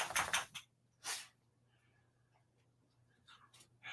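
A dog snuffles and sniffs at cat food indoors in short bursts of close breathy sniffing with a faint whimper between them, set against a low steady hum and otherwise quiet.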